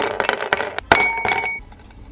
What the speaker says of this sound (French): je vais le mettre dans un verre avec 3 tonnes de glaçons